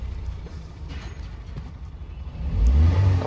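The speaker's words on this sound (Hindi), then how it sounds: "हमारी ये गाड़ी रेस पकड़ने लगी है फुल" A Toyota car engine, just cleared of a P2118 throttle fault code, idles with a low rumble and then revs up loudly toward the end, its growl swelling in the final second.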